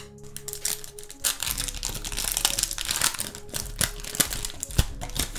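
A Yu-Gi-Oh booster pack wrapper is torn open and handled close by, with dense crinkling and crackling plastic and a few sharper snaps, no talk.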